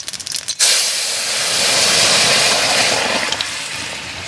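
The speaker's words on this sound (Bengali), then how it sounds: "এবার নামিয়ে রাখা মাছের ঝোলটা দেবো" Fish curry for a snakehead fish stew with raw papaya and potato hits hot tempering oil in a wok, bursting into a loud, sustained steamy hiss after a few brief clatters, then slowly settling.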